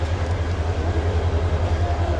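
The Upaban Express stands at Dhaka Kamalapur railway station with a steady low rumble, and a constant, fairly loud station drone continues throughout.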